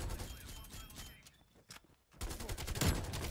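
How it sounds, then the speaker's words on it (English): Rapid automatic fire from a KRIG rifle in Black Ops Cold War crackles in dense bursts, breaking briefly into a near-silent pause before the shooting resumes loud and sustained. "I'm shooting so many bullets and not getting kills."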